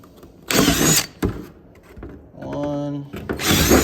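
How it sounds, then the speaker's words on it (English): A drill runs in bursts through holes for Dzus fasteners on a PRC kart, with two loud whirring bursts separated by pauses, a steady humming tone between them, and talk in the gaps. "Go ahead and drill them straight through."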